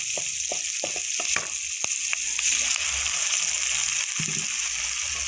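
Onions fry in a pan with a bright continuous sizzle, broken by scattered sharp clicks and scrapes of stirring, close and steady throughout.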